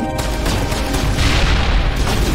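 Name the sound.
grenade explosion in the video game Mass Effect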